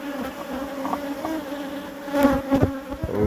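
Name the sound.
bees buzzing at a hive with a pollen trap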